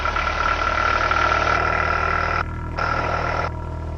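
Small training airplane's engine running up to takeoff power on the runway, a steady loud drone with a sustained tonal hum, briefly dipping and returning near the end.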